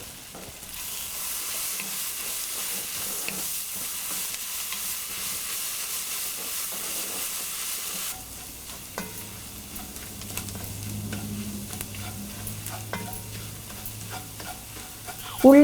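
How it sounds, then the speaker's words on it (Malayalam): Ginger, garlic and curry leaves sautéing in oil for a Kerala duck mappas, a steady close sizzle with a bright hiss, shifting midway as stirring adds soft scrapes and clicks against the pan. "നമ്മൾ ചെറുതായിട്ട് കട്ട് ചെയ്ത് വെച്ചിരിക്കുന്ന ഇഞ്ചി, വെളുത്തുള്ളി, 2 തണ്ട് കറിവേപ്പില എന്നിവയിട്ട് വഴറ്റുക."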